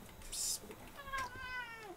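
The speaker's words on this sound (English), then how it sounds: "Don't complain because you're the bad cat." A cat in a retro Atari 8-bit game meows in short synthesized bursts, a bright chirp followed by a wavering, falling meow, sitting under ambient game sounds.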